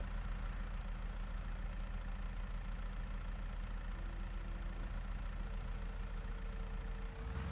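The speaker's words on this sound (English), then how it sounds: "I'm not gonna push the tractor anymore because I don't want it to completely die on me" Tractor engine idling in a farming video game, a steady low rumble that holds evenly throughout with no talk over it.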